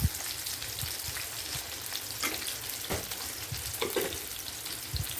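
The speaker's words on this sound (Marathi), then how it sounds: "टोमॅटो पण टाकायचे आपल्याला हलवा कांदा व्यवस्थित हलवा" Onion and tomato sizzling in a pan while being stirred, with a continuous frying hiss broken by scraping strokes and bubbling pops, close and moderately loud with no talking.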